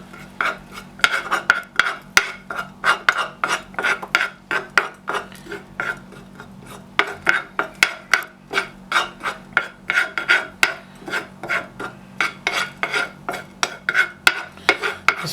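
Ginger, coriander and cumin warm in a pan for a digestive tea, a spoon scraping the pan in brisk, repeated strokes, close and clear over a low steady hum.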